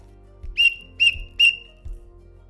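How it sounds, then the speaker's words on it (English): Three short, shrill whistle blasts, evenly spaced and close, sounded as the universal backcountry hiking distress signal, with a faint low rumble between them and no talking. "In the event of an emergency, the best way to attract help is making 3 short blasts. It's the universal distress call."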